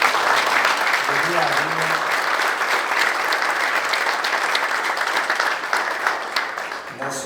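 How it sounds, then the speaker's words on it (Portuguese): Sustained applause from a large audience at a 70th-anniversary conference of a Portuguese trade association, welcoming the association's team, loud and steady with someone speaking briefly over it. "eu pedia aqui uma salva de palmas para a equipa"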